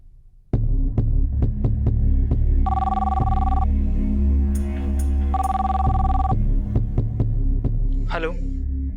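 An old-style telephone rings in two long electric bursts over a loud, throbbing musical background with heavy rhythmic beats.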